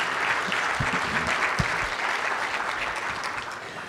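Audience at a food security symposium gives Dr. Reeves another round of applause, a full, sustained wash of many hands clapping with a few louder claps close by.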